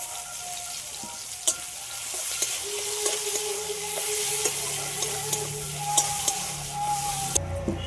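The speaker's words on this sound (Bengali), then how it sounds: "তেলের মধ্যে দিয়ে দিচ্ছি পেঁয়াজ কুচি" Chopped onion frying in oil in a pan for a Bengali fish-head muri ghonto, a steady close sizzle with occasional stirring clicks and faint tap water in the background, no talk.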